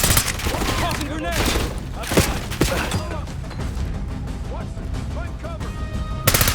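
Fast, dense gunfire crackles almost without pause in a Call of Duty: Black Ops 6 firefight, with sharp loud cracks standing out and a heavier burst near the end. Voices talk over the shooting.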